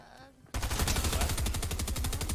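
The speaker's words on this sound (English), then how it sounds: "In the middle of getting shot at." Rapid automatic gunfire in the video game Fortnite, a loud sudden burst of evenly spaced shots that keeps rattling steadily after a quiet opening moment.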